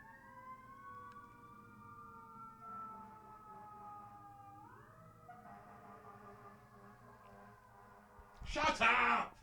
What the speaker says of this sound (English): Let's just wait for the fire engine.